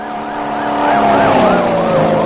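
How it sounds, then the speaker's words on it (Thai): A police car siren in the game TekeTeke, a loud wailing tone rising and falling in repeated cycles as the vehicle speeds past close by, over a steady engine rumble. "โอ้ยใครขับรถเร็วแท้คุณตำรวจ ขับรถไวแท้"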